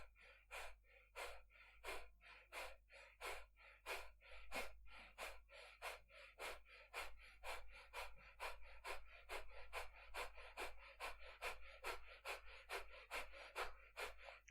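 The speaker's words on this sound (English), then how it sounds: "You can start with a nice slow breath of fire and pick up speed as you get comfortable." Rapid, rhythmic breath of fire in a kundalini yoga practice, short sharp nasal exhalations pumping steadily and evenly throughout, close and soft over a low background hum.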